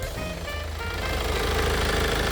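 A Kia All New Carnival engine idles steadily with a low, even rumble and a faint ticking texture, running continuously throughout.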